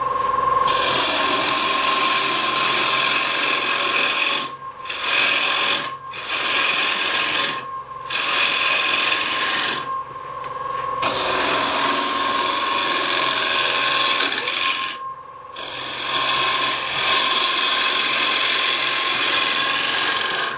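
A wood lathe turns a workpiece while a Ci1 Easy Rougher carbide tool roughs away wood, giving a loud, steady high-pitched rasping whine that breaks off briefly several times as the cutter lifts from the surface.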